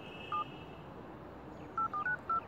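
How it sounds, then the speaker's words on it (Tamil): A phone keypad sounds five short DTMF dialing beeps, one isolated tone followed by a quick run of four, faint and close over a low room hiss with no speech. "ஃபோன் பண்ணுறேன்"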